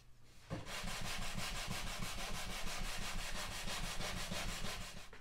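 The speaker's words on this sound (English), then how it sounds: "After lots of sanding," Steady, close back-and-forth rasping of sandpaper on a wooden board for a wall hanger, a rhythmic scratching stroke repeating evenly with no talk.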